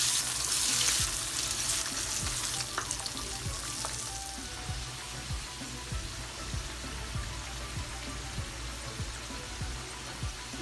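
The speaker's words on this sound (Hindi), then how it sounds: "पहले फ्रेंच फ्राइज को फ्राई करते हैं। डीप फ्राई करेंगे" French fries deep frying in hot oil, a steady close sizzle with dense crackling and popping bubbles, sometimes broken by soft stirring taps, with no voices.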